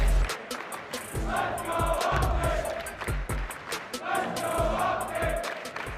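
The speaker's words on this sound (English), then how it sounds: "the crowd starts to get fired up for this map 4" A large crowd at a Call of Duty pro league esports event cheers and roars loudly, swelling in waves, with rhythmic clapping and thundersticks banging throughout.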